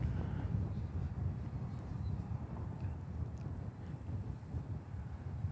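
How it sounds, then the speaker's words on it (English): Gusty, unsteady wind buffets the microphone outdoors while an FMS 1700mm PA-18 Super Cub RC plane flies, a continuous low rumbling roar with no talk. "It's a little gusty too."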